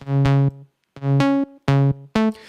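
Slap house bass synth patch in Vital, its filter shaped by an envelope: four short punchy bass notes with bright plucky attacks that darken quickly, played alone with gaps between.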